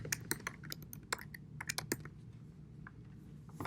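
Typing on a computer keyboard: quiet, close key taps in irregular bursts, with scattered single strokes and brief pauses, no voices.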